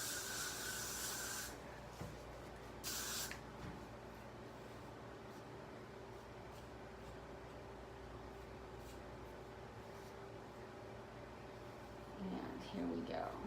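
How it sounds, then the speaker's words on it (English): Hairspray hisses onto teased hair in two short bursts near the start, then a longer stretch of quiet rubbing and smoothing, with another faint spray-like rustle near the end. "Maybe I'll spray the back a little bit more."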